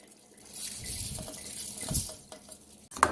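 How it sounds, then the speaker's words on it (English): Rice poured into a pot of peas and stirred for Jamaican rice and peas, a wet scraping and sloshing with soft clinks of a utensil against the pot, close and steady, with a sharper knock near the end. "I add in the rice and I'm just stirring it so the rice and the peas can be evenly distributed"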